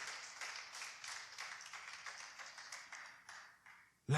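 A church congregation claps in rhythmic, fairly soft applause during a sermon, steady beats fading out before a sudden loud bump at the end.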